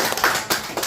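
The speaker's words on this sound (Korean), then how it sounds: "제가 가진 쪽에 계신 이 저자분들에게 박수를 한번 쳐주세요." An audience at a book launch event claps for the authors, a short burst of a few hand claps heard up close, brief and unaccompanied by talk.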